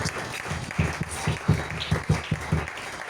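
A congregation claps in a rhythmic beat at moderate distance, with soft voices mixed faintly beneath the steady applause.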